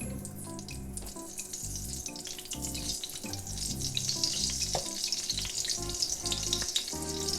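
Lard mixed with vegetable oil sizzles steadily in a pan for shredded pork with green chili pepper, a close, continuous hiss with faint clinks and no talking.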